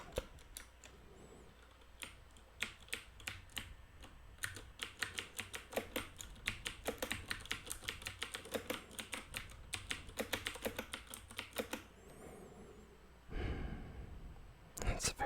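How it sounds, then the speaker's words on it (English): Keys on a mechanical keyboard being pressed, a close, rapid run of loud clunky clicks in an irregular typing rhythm, ending with a rustle and a breath. "you can hear right away that it's a pretty loud, clunky click"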